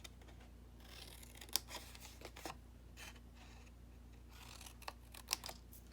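Scissors snip away squares of paper card, a few short crisp cuts spread over a quiet background with no voices.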